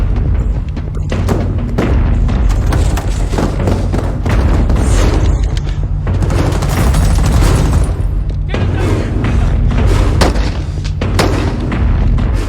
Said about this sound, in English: So that was a practical explosion.